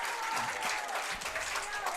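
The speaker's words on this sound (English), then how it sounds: "Crowd's loving it here." High school football crowd at a Red Bud vs Pinckneyville game cheering and applauding after a touchdown, a loud sustained roar of clapping and shouting from a stadium crowd.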